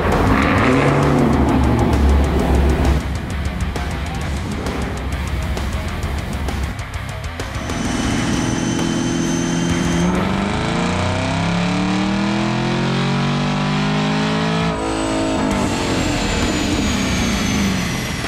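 A Chevrolet Camaro ZL1 engine roars under load on a dyno after a super damper upgrade, revving hard through rising gear-like sweeps with a high whine, loud and close, then easing off.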